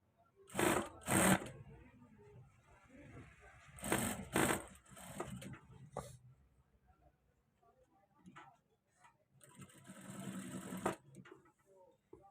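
Sewing machine stitching elastic onto a trouser waistband, running in several loud bursts of rapid mechanical chatter with pauses between, a quieter run in the middle and a long final burst, with faint room noise and soft talk in the gaps.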